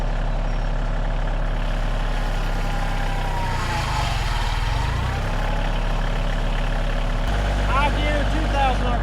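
A Kioti CK or CX series tractor engine idles steadily at about 1000 RPM in gear, a continuous low diesel rumble that stays close and even throughout, shifting slightly in tone near the end.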